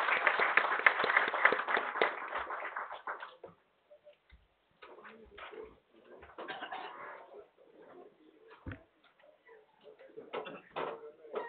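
Audience at a professional lecture on transfer pricing applauds after a vote of thanks. A dense patter of claps lasts about three seconds, then thins into scattered faint taps and rustling.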